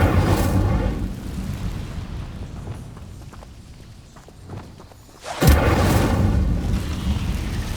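A fiery Incendio spell blast in the video game Hogwarts Legacy: a loud, sustained roaring whoosh that dips briefly, then surges back with a sharp boom and keeps rumbling.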